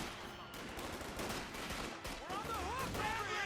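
Company of Heroes 2 battle sounds: faint rattling gunfire and scattered shots crackle through a busy, mid-distance game mix, with a warbling tone near the end.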